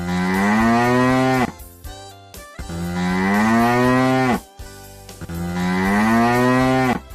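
A cow moos three times in long, loud, drawn-out calls separated by short pauses, close and clear with no talking.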